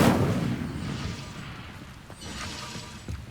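Casting the Incendio fire spell in Hogwarts Legacy releases a sudden whooshing, booming burst that fades into a soft, lingering crackle over a few seconds.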